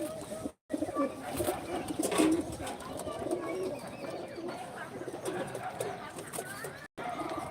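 Pigeons coo in a loft with adult birds and young squabs, a continuous low burbling chorus heard close amid room noise, with two brief dropouts.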